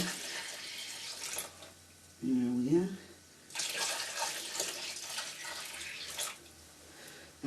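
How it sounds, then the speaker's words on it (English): Water poured into a container of reclaimed pottery clay to top it up, a brief close splash and trickle of about a second, with someone talking before and after. "I'm going to top it up a little bit, because the clay will be absorbing a lot more water"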